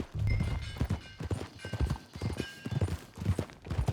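Hooves clip-clop in a quick, steady rhythm, close and clear, with a horse occasionally snorting and a faint voice now and then, in the video game Red Dead Redemption 2.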